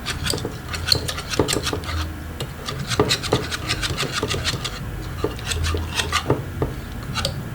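Margarine is creamed by hand in a bowl with a spoon or whisk for peanut butter cupcakes, giving steady rhythmic scraping and rubbing strokes against the bowl, close and continuous with no talk.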